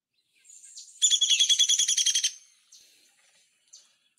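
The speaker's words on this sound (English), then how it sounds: "that is a classic downy woodpecker call" Downy woodpecker call: a rapid, high, descending whinny of about a dozen sharp notes, loud and clear against silence, followed by a couple of faint short chips.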